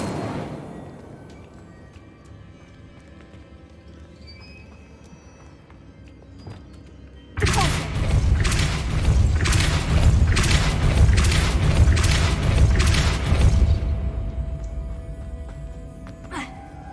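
Casting the Incendio fire spell in Hogwarts Legacy releases a sudden loud whoosh of flame that roars with rapid pulsing bursts for several seconds, then drops away to a quiet background.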